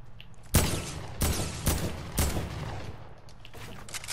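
Gunfire in Fortnite, four sharp loud shots spaced roughly half a second apart, then a pause and a fifth shot near the end over faint background ambience.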